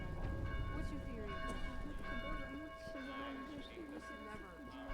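Church bells in a video game ring steadily in a dense background, with bell tones sustained throughout and talk layered over them.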